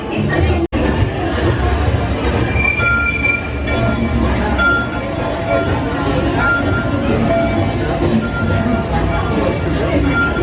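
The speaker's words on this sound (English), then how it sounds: "Here comes our train." A train rumbles in along its rails on Mickey and Minnie's Runaway Railway, with heavy low-end noise and metallic squeals, steady and close throughout, with voices murmuring underneath.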